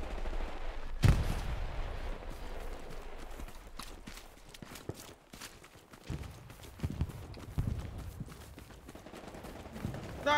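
Gunfire crackles through a Hell Let Loose firefight: a sharp close shot near the start, then scattered distant and mid-range shots popping over a steady battlefield rumble, with a few louder bursts later on.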